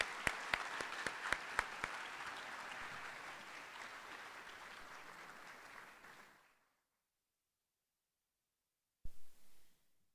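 Audience applause fills a high school freshman academic awards ceremony, steady clapping with a few sharp near claps at the start, fading out into silence before a brief thump.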